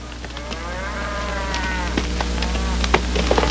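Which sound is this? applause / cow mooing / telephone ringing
cow mooing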